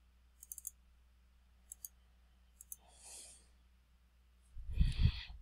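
Short, crisp computer mouse clicks come in small bursts of two or three, quiet and close, with a breath and a soft sigh near the end.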